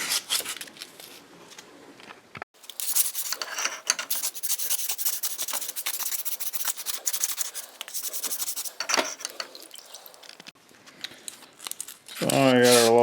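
Rust being scrubbed off an old tool, a steady rasping scrub that runs for about ten seconds after a brief pause, close and fairly loud, ending in a different harsher burst.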